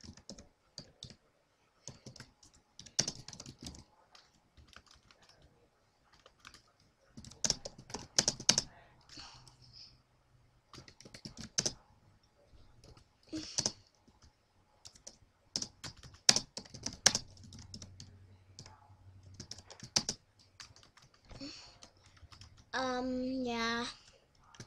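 Someone types a logo or thumbnail text on a computer keyboard, with irregular bursts of quiet close key clicks and pauses between them, and brief faint speech near the end.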